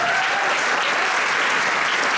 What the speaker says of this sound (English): So let's have a round of applause for Matthew Dalton, please.